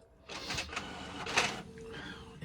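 An old home color printer whirs and clatters in short mechanical bursts as it feeds and prints a page, loud and near, with a brief high motor whine at the end.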